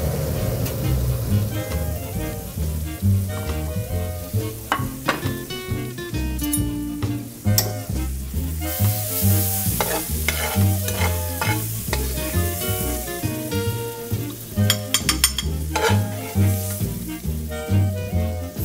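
Sauce for artichoke and sun-dried tomato salmon reduces in a frying pan with a steady, close sizzle and bubbling, broken by frequent stirring scrapes and clinks of a utensil against the pan, with no talking.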